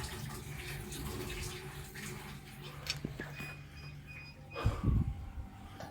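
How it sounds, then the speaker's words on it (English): Water drains rapidly from a hot water tank's drain cock into a sink, a steady rushing trickle with some clunks and a louder gurgling splash near the end, fairly quiet. "the water was draining out rapidly"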